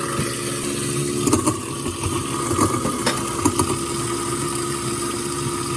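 A Waste King L-8000 1HP garbage disposal grinding potato skins runs as a steady, close motor hum and whir, with a few brief knocks and rattles as the skins pass through.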